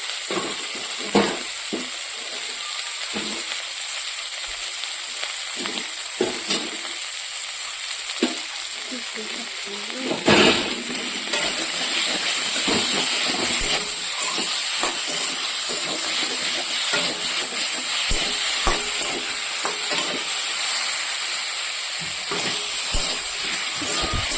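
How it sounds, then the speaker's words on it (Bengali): Mixed vegetable curry with chilli spice paste sautéing in a pan in a Bengali home kitchen, a loud continuous sizzle and hiss with frequent stirring clatters and scrapes throughout, close up and without speech. "সবজিটা ভালো করে কষিয়ে নিই"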